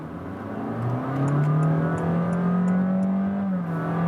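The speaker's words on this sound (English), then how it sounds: "And here for first acceleration from 40 kilometers to 80," A 2021 Honda Jazz Hybrid accelerates from 40 to 80 km/h, its engine droning steadily and rising in pitch as it builds speed, heard from inside the car with no talking.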